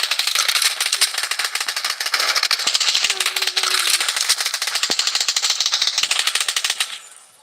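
Rapid automatic gunfire in the online shooter Blood Strike rattles out in a dense, loud, continuous stream for several seconds before cutting off abruptly at the end.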